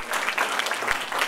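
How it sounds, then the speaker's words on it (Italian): Brief burst of audience applause at an Italian school event, dense and steady clapping filling the whole moment without speech. "meritato applauso"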